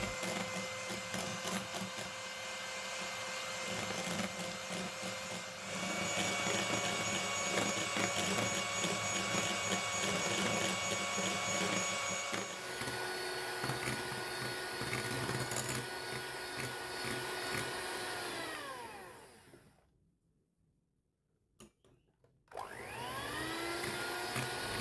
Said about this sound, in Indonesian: Lalu ini kita kocok kuning telurnya sampai mengembang dan juga kental.